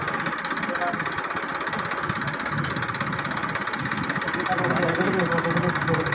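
A farm tractor engine runs steadily with a low, even drone and ground-speed PTO machinery working, while someone talks over it.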